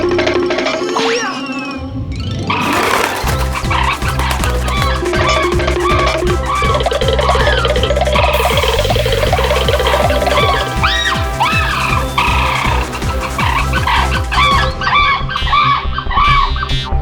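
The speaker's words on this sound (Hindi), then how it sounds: "मुर्गा, एक मुर्गा।" Cartoon rooster from Kalia Ustaad clucking and squawking in comic bursts over a busy, bouncy music bed that runs loud and continuous throughout.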